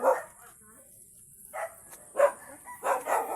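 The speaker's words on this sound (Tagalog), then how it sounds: "Aso dito, may aso." A dog barks a few times in short bursts, moderately close, with quiet gaps between the barks.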